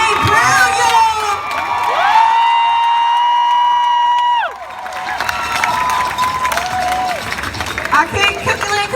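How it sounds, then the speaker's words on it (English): Loud crowd cheering, whooping and clapping at a Black women's march, a dense sustained roar with shouted voices rising over it for several seconds, dropping slightly midway and then continuing. "Can we please give her another round of applause?"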